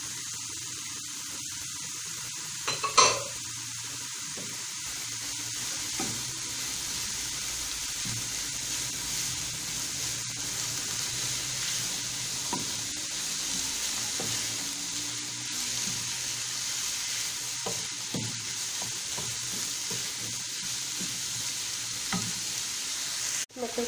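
Peppers frying in a pan, a steady quiet sizzle throughout with occasional scraping stirs and one sharper clatter early on, close-up and without talking.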